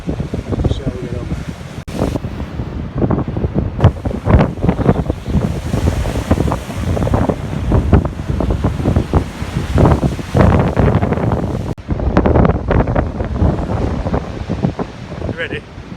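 Sea swell breaks against a rocky North Wales shore during rock fishing. A loud, rolling surf roar is mixed with heavy wind buffeting the microphone.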